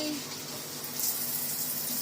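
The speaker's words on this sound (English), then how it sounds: "just check the shower for you." Water running steadily from a brand new shower in a rental property bathroom, a continuous broadband hiss that stays even and fairly close throughout, with no talking over it.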